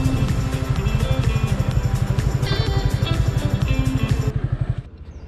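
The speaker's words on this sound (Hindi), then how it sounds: "तुम्हारा बाइक आ रहा, थोड़ा आ गया ना" A motorcycle ridden near Assam University in Silchar, its engine chugging steadily and loud with a rhythmic low pulse throughout, then cutting out abruptly near the end.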